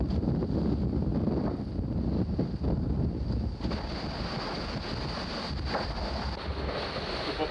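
Wind gusting and roaring at sea aboard a sailboat, continuous buffeting noise mixed with rushing waves and water against the hull, steady and close throughout with no speech.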